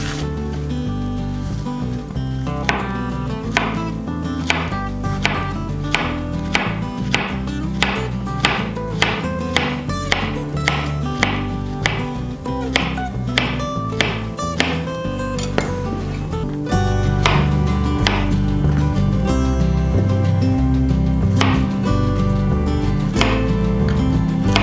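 A knife slices bananas on a cutting board in quick, regular taps, one after another, close by and over a steady low background.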